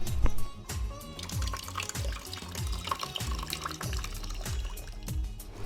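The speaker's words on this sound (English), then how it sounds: "Let's thoroughly rinse the cleaned prawns and keep them aside." Tap water runs and splashes steadily as cleaned prawns are rinsed beneath it, with irregular sloshing and dripping close up.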